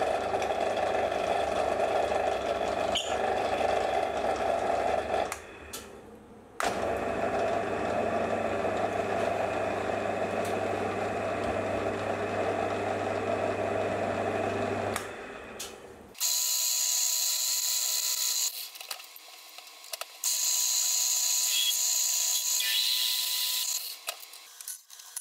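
Hand-cutting M5 threads onto a turned metal rod end, a close repetitive scraping and grinding rasp with metallic clicks, broken by short pauses and a quieter, brighter stretch near the end.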